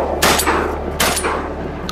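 Two sharp shotgun blasts a little under a second apart ring out outdoors on a duck hunt, each with a rolling tail, with no talk.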